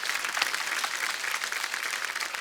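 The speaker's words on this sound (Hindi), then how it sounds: "एक बार जोरदार तालियां रवि भैया और मनोज भैया के लिए" A burst of applause from a crowd, steady and fairly loud throughout, with dense clapping and no voices standing out.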